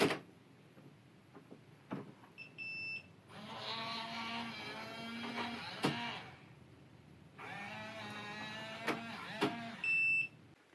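Defiant electronic deadbolt keypad beeping during code entry, short bright tones near the start and end framing two longer motorized whirs as the latch mechanism cycles, close and clear with no talk.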